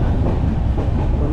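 Inside a passenger train on the Kurla to Khed run, a brief, loud, steady rumble and rattle of the carriage in motion.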